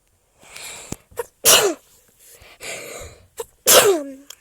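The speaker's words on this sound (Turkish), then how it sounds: "Hapşırasım geldi." A person sneezes several times in quick succession, with sharp loud bursts and softer breathy wind-ups between them, close and clear with no talk over them.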